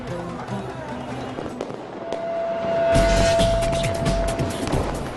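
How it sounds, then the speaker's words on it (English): Public fireworks display in Delhi for Diwali, with loud crackling bursts and booming pops tumbling over one another, building to a denser barrage midway, while a steady whistling tone rises through the middle. "Some cities also put on spectacular public displays of fireworks, like this one in Delhi."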